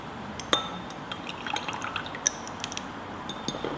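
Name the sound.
liquid poured out into a glass beaker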